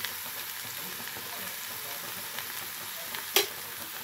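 Stuffing mixture of spices, a little jaggery, salt and chili powder being stirred in a hot pan for stuffed pointed gourd, a soft continuous sizzle with faint scraping and one brief sharp clink near the end.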